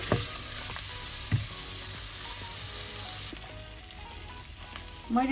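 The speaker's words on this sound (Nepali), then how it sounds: "अब यो मसलाहरू राखेर एकैछिन भुट्छु मैले।" Cumin, coriander and ginger frying in oil in a pan, giving a steady close sizzle with occasional stirring clatter and a louder burst of spitting at the end, with no talking.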